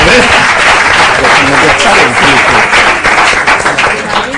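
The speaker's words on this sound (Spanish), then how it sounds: "aplauso para Concha" A loud, continuous round of applause from an audience at a maths-and-magic outreach talk after a card trick, dense clapping held throughout.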